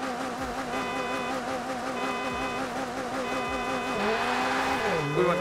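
A race car in Forza Horizon 4 spins its wheels at the start of a race, its engine droning in steady layered tones with short tire squeals, then rising and dipping near the end, moderately quiet and close.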